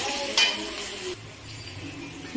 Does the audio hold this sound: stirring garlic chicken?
yes